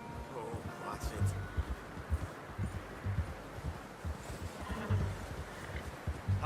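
A horse walks in the video game Red Dead Redemption 2, its hooves making a steady, soft clip-clop over rustling outdoor ambience, with a faint whinny possible in the mix.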